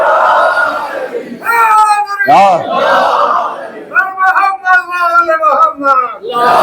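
A crowd at a Shia majlis gathering shouts the Naara-e-Haidari chant: a loud lead call followed by a drawn-out collective response of raised voices in several surging bursts.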